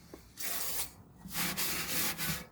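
Cloth rubbing and wiping around a VW Touareg TDI engine bay, steady scrubbing strokes in several bursts with brief pauses between, close and fairly loud, no voices.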